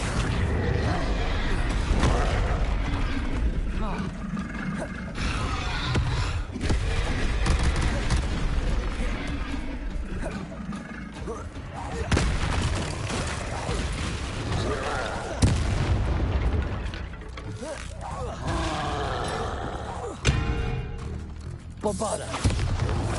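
Spell explosions from Confringo and Bombarda in the Hogwarts Legacy video game: repeated heavy booms and blasts recurring every few seconds over a dense rumbling battle bed, loud and close throughout.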